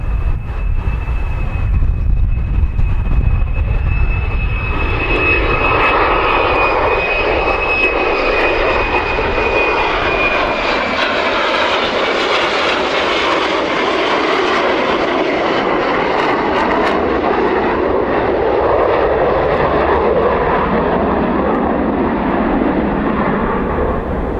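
Fixed-wing aircraft passing overhead at a Liberty Wing UK gathering, a loud continuous engine roar and rushing drone that swells and sustains throughout, with a steady high whine early on that fades as the plane moves across.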